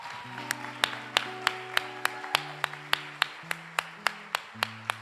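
Applause at a women's retreat: sparse, distinct claps ring out steadily and fairly close, over a sustained tonal hum or music bed.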